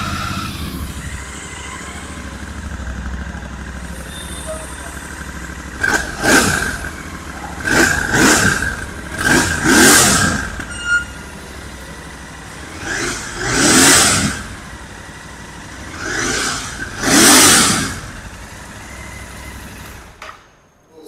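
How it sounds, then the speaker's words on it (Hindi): A Royal Enfield Continental GT 650 parallel-twin engine is cranked and started. It settles into a steady idle, and several loud, separate throttle blips rise and fall over the idle. "Let's start the bike and crank the motor."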